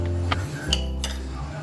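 Fried tofu cubes being stirred into soy sauce with a utensil, giving a few light clinks and scrapes against a dish over a low steady background hum.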